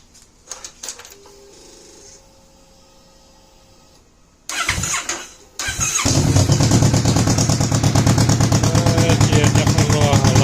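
2020 Kawasaki Vulcan S cafe motorcycle with an aftermarket AliExpress exhaust: after some quiet handling noises, the engine cranks, catches and settles into a loud, close, throbbing idle that runs steadily to the end.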